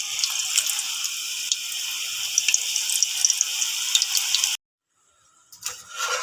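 Banana chips frying in hot oil give a steady, dense sizzle with small crackling pops, close and loud, cutting out abruptly near the end before faint clattering resumes.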